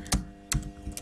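Computer keyboard being typed on while entering a Cisco switch configuration command, three distinct close keystrokes spaced about half a second apart, quiet and alone.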